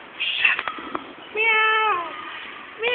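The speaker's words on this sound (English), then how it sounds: "Meow. Meow. Meow. Meow." A cat gives a few short meows, then one longer, drawn-out meow and the start of another, close and fairly clear against a quiet background.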